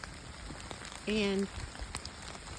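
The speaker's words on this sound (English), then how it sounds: "it's still raining, so my tent inside got a little wet" Rain falls steadily on a tent at a mountain shelter on the Appalachian Trail, a soft continuous patter with a short spoken word partway through.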